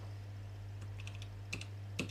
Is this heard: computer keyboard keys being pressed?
yes